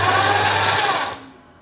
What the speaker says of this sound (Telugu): మనం క్లాత్ని నీట్గా చూసుకుంటూ స్టిచ్ చేసుకోవాలి